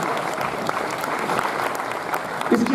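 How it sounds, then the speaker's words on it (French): Audience at a film festival debate breaks into applause, a dense, even patter of clapping lasting a few seconds, with a voice briefly audible near the end. "on peut applaudir, c'est cool."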